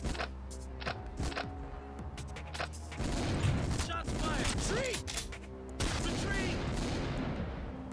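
Gunfire bursts from a pinball video game ring out repeatedly over busy game music and effects, with sharp transients scattered across eight seconds amid a dense, layered mix.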